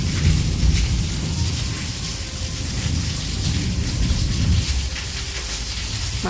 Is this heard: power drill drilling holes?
no